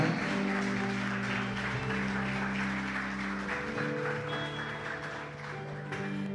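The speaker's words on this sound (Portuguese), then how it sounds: "Vamos aplaudir ao Deus da família." Church congregation applauding during a service, a steady wash of clapping held over a sustained musical backdrop of organ-like tones throughout.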